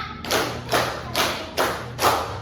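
A classroom group claps in unison, five distinct group hand claps in a steady rhythm, each a sharp broadband burst close and clear, no talking.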